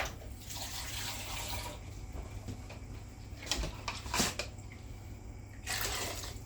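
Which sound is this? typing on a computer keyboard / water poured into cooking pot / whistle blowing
water poured into cooking pot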